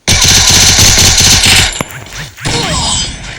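Rapid automatic gunfire in Counter-Strike, a loud close burst of fast repeated shots lasting over a second, followed by a few scattered single shots and a renewed rattle.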